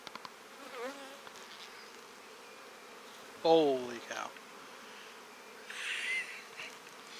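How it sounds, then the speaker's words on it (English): Honey bees buzzing around an open hive full of brood during a spring hive check, a soft continuous hum in the background while someone talks and exclaims over it. "got a lot of old bees in here"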